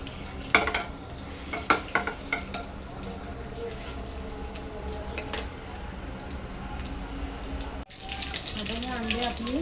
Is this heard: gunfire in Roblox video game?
no